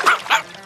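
Two quick, sharp barks from a cartoon dog, close and fairly loud, the second following a beat after the first.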